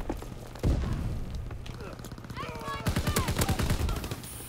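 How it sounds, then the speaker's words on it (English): A grenade blast in the World War II shooter Call of Duty WW2 lands as a sudden loud boom, followed by scattered gunfire and rapid bursts amid game noise, with someone talking faintly underneath. "Oh, that's a grenade."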